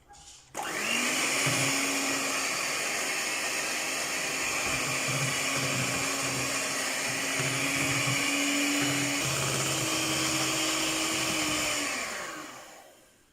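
An electric mixer beats vanilla sponge cake batter in a kitchen with a loud, sustained whirring hum that holds for about twelve seconds before dying away.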